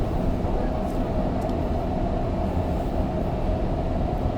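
Steady low rumble and hum inside a REM light metro train running smoothly between Île-des-Sœurs and Brossard stations, a constant even drone with faint talk beneath.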